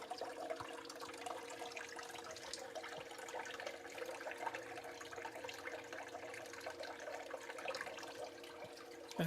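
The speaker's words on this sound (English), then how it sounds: "I'm going to give it just a little bit more water" Water poured steadily into a gold panning bowl while processing beach paydirt, a continuous soft splashing trickle that stays even throughout, quiet and close, with no talking.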